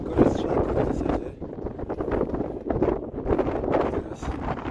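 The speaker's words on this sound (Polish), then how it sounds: "Troszkę akurat jest mocny wiatr" Strong wind buffets the microphone in a steady, rumbling roar with gusty surges on a granite mountain trail in the Tatra Mountains, and a voice speaks faintly underneath.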